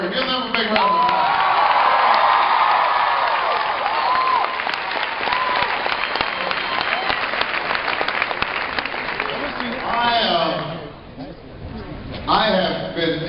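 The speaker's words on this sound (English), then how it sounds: "And all the students who are here, give them a big round of applause." A high school crowd claps and cheers loudly for the students, with dense applause, whoops and shouts that fade near the end and give way to a voice speaking.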